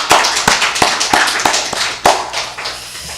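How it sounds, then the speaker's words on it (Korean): Church congregation at a Sunday worship service clapping in a sharp, loud rhythmic pattern, roughly evenly spaced claps in unison, close and crisp, with no talk over them. "영광의 박수 한번 하시겠습니다."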